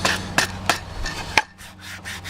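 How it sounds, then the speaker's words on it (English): Several quick scraping strokes of sandpaper rubbing across wood, close and rhythmic, followed by softer, slower rubbing passes. "sand off the fuzzies"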